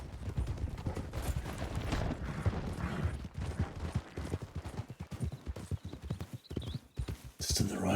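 Horse hooves clip-clop in a Western video game set in the Red Dead Redemption WildRP world, a brisk run of close, rhythmic hoofbeats with people talking over them.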